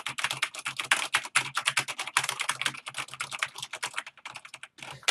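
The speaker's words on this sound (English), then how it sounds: "So if I'm like typing an essay for school," Rapid, steady typing on a Corsair K95 Platinum mechanical keyboard, dense close clicks running continuously with a brief pause near the end, no voices.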